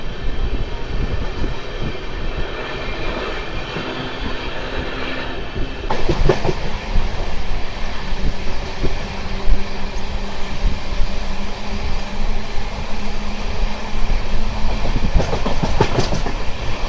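Sapthagiri Express with new LHB coaches running from Puttur toward Renigunta, heard from inside: steady loud rolling rumble with rhythmic clickety-clack of wheels over rail joints throughout, swelling louder around the middle and near the end.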